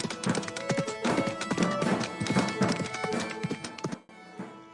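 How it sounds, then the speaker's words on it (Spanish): Horse hooves clip-clop in a quick, close rhythm as a knight rides away, with a soft whinny mixed in before the hoofbeats cut off abruptly near the end. "de un salto subió a su caballo y retomó el camino hacia otro destino"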